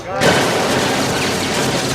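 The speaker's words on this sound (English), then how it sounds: "We're using automatic weapons, shooting several rounds a minute" Automatic weapons fire rapid rounds on the set of the action film Die Hard 2, a dense, loud, continuous clatter of gunfire that fills the whole stretch with little pause.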